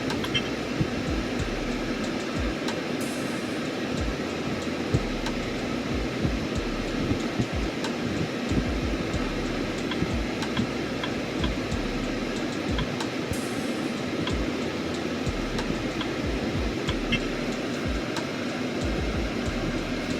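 A steady rumbling roar of a passing freight train heading to the mills continues without pause, broadband and fairly even in loudness, with no talking.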